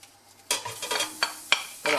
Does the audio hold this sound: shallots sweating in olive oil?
yes